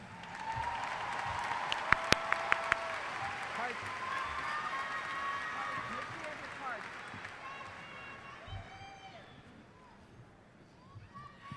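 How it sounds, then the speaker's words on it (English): A large crowd at a high school graduation claps and cheers, with scattered whistles and shouts rising over the applause before it gradually thins out. "Let's give our top 10 another round of applause."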